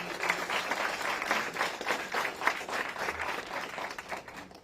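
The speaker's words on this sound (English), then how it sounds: "One more round of applause for JD." An audience at a Milwaukee school event where students get free laptops and supplies applauds steadily for a few seconds after a speech, a dense, even patter of many hands with no voices over it.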